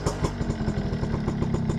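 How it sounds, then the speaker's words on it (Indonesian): A Suzuki RC100 motorcycle engine idles close by with a crisp, crackling exhaust putter, steady and even throughout. "Suara knalpot masih renyah ini"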